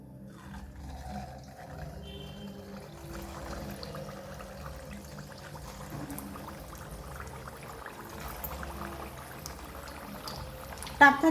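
Potato and semolina vadas frying in hot oil in a pan, a steady close sizzle and bubbling that holds throughout and ends with a short clatter.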